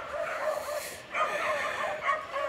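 Several big dogs waiting at feeding time, yipping, whining and barking in repeated bursts at moderate distance, no talk over them.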